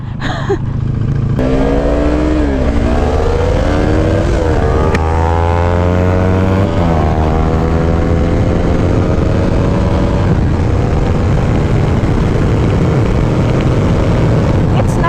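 A Kawasaki Ninja 400 and a KTM RC390 race in a speed test, engines loud and close with rising, sweeping pitch as they rev through gears, the drone continuing throughout.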